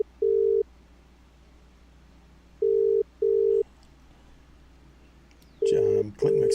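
Telephone call being placed: single dial-tone beeps at steady pitch recur with gaps, followed by a louder burst of ringback and line tones at the end, heard alone without talk.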